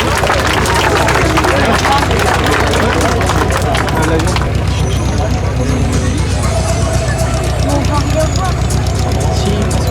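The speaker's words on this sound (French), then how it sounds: "On peut l'applaudir, on peut les saluer." Outdoor crowd at an air show clapping steadily and loudly for several seconds, a dense wash of applause mixed with background chatter, thinning somewhat toward the end.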